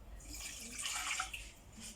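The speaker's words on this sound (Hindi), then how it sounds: "2 गिलास पानी डालूंगी इसमें।" Water is poured into a pan holding sugar and cardamom to make a sugar syrup, a splashing, trickling stream at close range lasting a couple of seconds.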